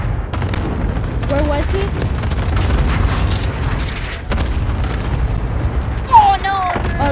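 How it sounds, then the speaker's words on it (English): Cluster strike explosions in Modern Warfare set off a rapid run of loud, heavy booms and rumbling blasts, with players talking over the barrage. "Enemy cluster strike incoming"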